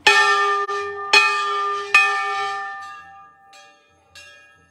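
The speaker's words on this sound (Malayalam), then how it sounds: "ഭീമാകാരന്മാരായിട്ടുള്ള മണികളുണ്ട്." Huge bells at the Chitai Golu Devta temple in Almora ring out in three loud, resonant strikes about a second apart, each ringing on, followed by fainter strokes further off.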